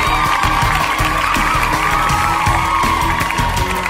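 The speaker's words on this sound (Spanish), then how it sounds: "El aplauso para ella." A crowd at a live anniversary concert applauds and cheers loudly for a female timbales percussionist, a dense, continuous wash of sound with rhythmic drumming pulsing underneath.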